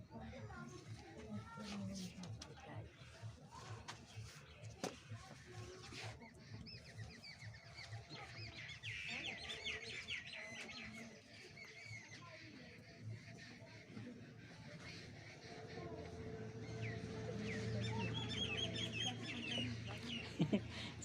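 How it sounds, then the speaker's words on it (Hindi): Chickens cluck and other birds chatter repeatedly, moderately near, outdoors during a Hindi fractions maths lecture. Someone talks over the birds for much of the time. "इधर पक्षी भी सब शोर कर रही हैं"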